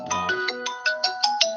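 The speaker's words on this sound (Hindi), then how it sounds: "एक मिनट में एक फोन आ रहा है" An incoming phone call ringtone plays a clear, repeating electronic melody of short, evenly spaced tones, loud and close with no talk.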